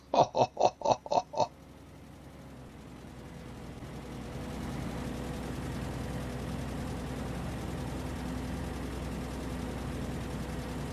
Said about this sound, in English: I love the sound of its engine when it's starting up.